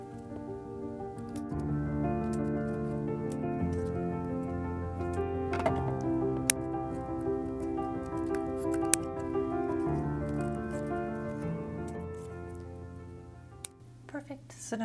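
Scissors snip paint swatch paper into small squares, with quick, sparse cuts heard close under steady background music throughout.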